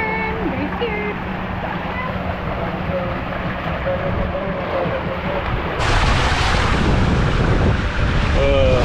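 Wind roars and buffets the microphone steadily on a zip line at a waterpark, growing louder and harsher toward the end, with people's voices underneath.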